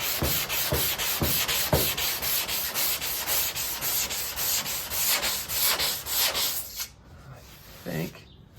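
Body filler on a car hood being hand-sanded with sandpaper, a steady rhythmic back-and-forth rasp of close, even strokes that runs for most of the clip before stopping near the end, followed by a brief softer scrape.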